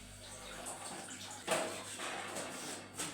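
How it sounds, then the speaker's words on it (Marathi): Water is poured into a cooking masala for a village-style spicy fish curry, a soft continuous splashing and trickling that swells briefly partway through, close by and fairly quiet. "या मसाल्यात टाकायचं आता पाणी"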